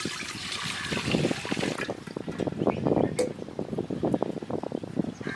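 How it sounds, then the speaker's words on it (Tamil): Water splashes and gurgles steadily into a container, a continuous pouring sound with bubbling texture, with a voice speaking over it. "ஒரு லிட்டர் அல்லது ரெண்டு லிட்டர் தண்ணி ஊற்றிக்கலாம்"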